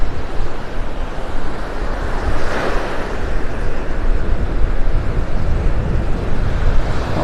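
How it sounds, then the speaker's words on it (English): Small ocean waves break in a steady, broad wash on a beach in North Naples, Florida, loud and continuous with no talking. "All those little waves."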